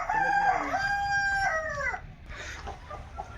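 A native country rooster crows loudly nearby, one long drawn-out call, followed by faint clucking and farmyard noise at a free-range poultry farm in Kamareddy.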